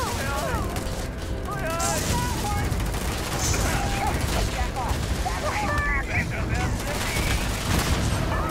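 Loud, sustained weapon fire in the video game Starfield rattles in dense automatic bursts mixed with booming impacts, layered with chirping effects and game ambience throughout.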